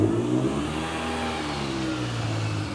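A Mini car's engine revs steadily as it starts to roll out, a loud, close mid-pitched drone with rising and falling harmonics running throughout.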